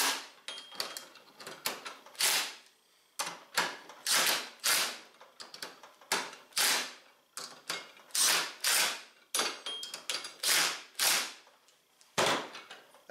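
Bolts are tightened on a Hunter works white washer and secondary roller kit for a Polaris RZR XP 1000 clutch, with loud, close ratchet clicking in repeated short bursts separated by brief pauses.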